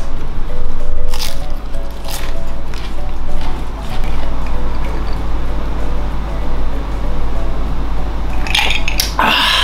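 A small, dense cabbage is rinsed under running water, giving a steady close wash with squishy handling and a few splashy knocks near the end.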